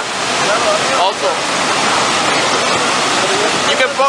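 A natural-disaster mudflow surges past in a loud, continuous rushing roar like heavy water, with people talking over it now and then.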